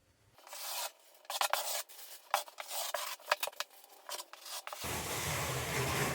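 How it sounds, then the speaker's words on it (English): A grout tool scrapes excess Mapei Ultracolor Plus FA tile grout off a tiled floor in short, uneven rasping strokes, then a steadier continuous scrape, close up with no talking. "I'll scrape any extra off right now"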